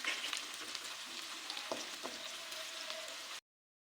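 Okra (bhindi) frying in a pan and being turned with a spoon: a steady soft sizzle with a couple of sharp scraping knocks midway, fairly quiet and without talk, ending abruptly.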